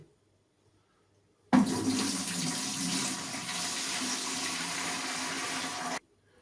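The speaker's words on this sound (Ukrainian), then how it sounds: "У відро я виливаю концентрат, оцей, який приготовлений, вже охолоджений" Cooled brine concentrate for salting fish is poured from a container into a bucket, a steady close splashing gush of liquid lasting about four seconds before stopping abruptly.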